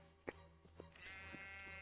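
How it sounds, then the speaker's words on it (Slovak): White sheep bleat in a Minecraft-style video game with a tornado mod, a few short quiet bleats heard faintly over a steady game background hum. "A tam sú biele ovce, aby som mohol mať posteľ."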